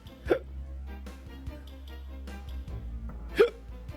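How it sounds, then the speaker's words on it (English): Two sharp, abrupt hiccups from a person, one near the start and one near the end, loud and close, with faint background sounds between them. "I have the hiccups."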